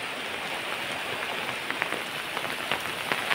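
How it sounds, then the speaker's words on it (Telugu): Heavy rain pours steadily over a cotton field, a dense unbroken hiss with scattered sharper drop impacts, loud and close throughout with no voices. "వర్షం అయితే భారీ స్థాయిలో పడుతూనే ఉంది"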